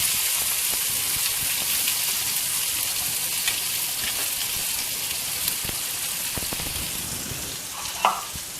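Steady, even sizzle and crackle of mustard seeds and urad dal frying in hot oil, continuous and close with a few small pops, no talking.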